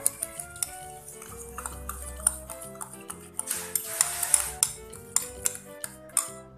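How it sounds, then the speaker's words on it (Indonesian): A utensil stirs sugar and eggs together in a bowl, giving a run of quick rhythmic clinks and taps against the bowl, close and fairly clear, with no one speaking. "Kemudian gula pasir dan juga telurnya kita aduk."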